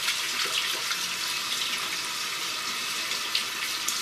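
Tap water runs steadily into a sink to wet hair before twisting, a constant close hiss of flowing water with no talking.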